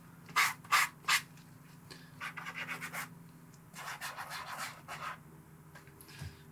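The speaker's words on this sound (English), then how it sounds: "so I'm going to kind of sand that down a little bit. Just light sanding." Light sanding along a cracked spot on a shoe, starting with three quick sharp scrapes, then two runs of fast rasping rubs close up, with quiet gaps between.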